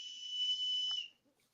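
A loud, sustained shrill whistle blast at a wrestling show, holding a steady high tone for about a second before cutting off, followed by faint background noise.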